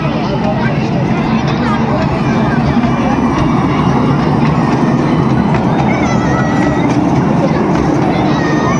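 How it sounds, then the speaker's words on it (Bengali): A train rumbles steadily nearby, a continuous mechanical roar with a busy crowd and children chattering over it. "পাশেই দেখা যাচ্ছে আর একটা ট্রেন দেখো"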